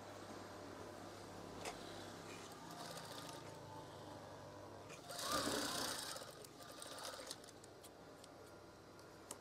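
A sewing machine stitches fabric for a crab swag curtain, a quiet mechanical whir with light ticking, swelling into a louder burst of stitching midway before settling back.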